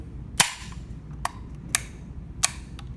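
Sharp metallic clicks from an Israeli Galil rifle's AK-style safety lever being worked, four distinct snaps spaced unevenly and heard close and clear over a quiet background, with no speech.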